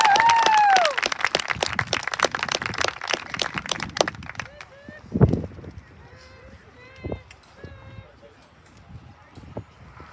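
Applause for a senior at a high school lacrosse senior night, a crowd clapping loudly at first and then thinning to scattered claps and a few cheers, with an announcer's voice over the start.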